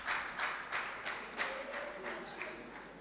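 A quiz show audience claps for a contestant, the applause light and distant, a few soft bursts of hand claps over about three seconds.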